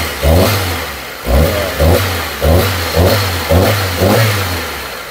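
A Mitsubishi Lancer engine revs in uneven bursts, about seven rough surges with a stumbling, misfiring chug between them, close and loud.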